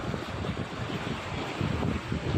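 Arabian Sea waves rolling and breaking on the shore, a continuous broad wash of surf with wind rumble buffeting the microphone, steady and close throughout.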